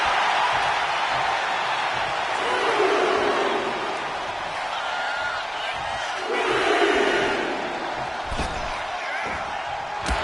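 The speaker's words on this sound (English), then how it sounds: "Look at Austin taking in all the energy from the crowd." Arena crowd noise in a WWE 2K wrestling video game, a steady roar that swells twice into louder cheering, with game commentary and impact slams in places.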